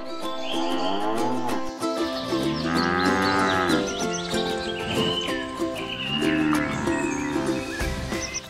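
Cattle on a farm moo repeatedly, loud drawn-out lowing calls overlapping one another close by, with a few horse-like whinnies and faint hoof clops mixed in.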